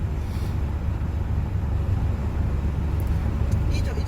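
Steady, rumbling wind rushes into the driver's cabin of a camper van cruising on a highway bridge in strong crosswinds, a dense, continuous low roar with road noise beneath it and no break throughout.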